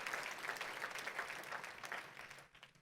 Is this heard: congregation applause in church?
yes